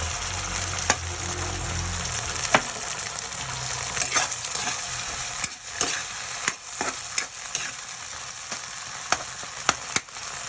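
Milkfish sarsyado being stirred with ketchup in a pan, spicy sauce bubbling: a steady sizzle runs throughout while a utensil scrapes and clinks in sharp, scattered knocks against the pan, close and clear with no talking.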